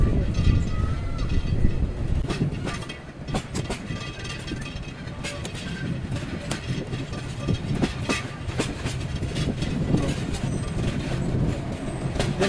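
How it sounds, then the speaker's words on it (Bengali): The Parabat Express pulls out of Azampur railway station, its wheels and carriages rumbling and clattering continuously and loudly from close by, with faint rattling bursts throughout. "সকাল নয়টা পঁচিশ মিনিটে ট্রেন ছেড়ে গেল আজমপুর রেলওয়ে স্টেশন"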